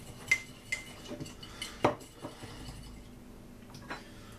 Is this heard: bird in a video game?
no